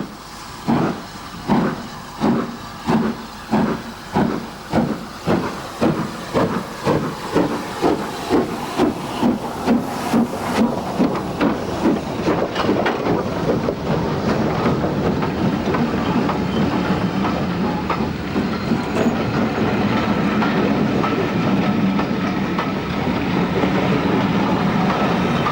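A steam locomotive chuffs in steady, accelerating beats as it pulls away, the exhaust blasts merging into a continuous roar with hissing steam and wheels running on the rails, loud and close throughout.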